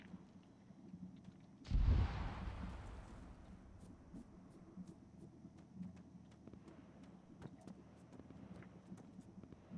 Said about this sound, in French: ça tire à la TRG par contre juste en bas